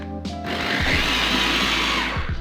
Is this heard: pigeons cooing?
no